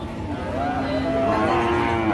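Cattle at a livestock market in Aftabganj, where dry cows and heifers are sold, low in a long drawn-out moo that rises and wavers over steady market chatter and background bustle.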